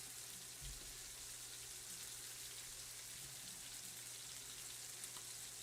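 Pork chops sear in a hot pan, giving a steady, even sizzling hiss that runs through the whole stretch, with a faint low hum beneath and a couple of soft knocks.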